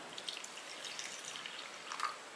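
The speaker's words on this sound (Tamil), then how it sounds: "இப்போ இதில் 1/2 டம்ளர் தண்ணி ஊற்றிக்கலாம்" Half a tumbler of water is poured into a mixer jar of ground chutney, a faint, soft trickle and splash heard alone in a quiet kitchen.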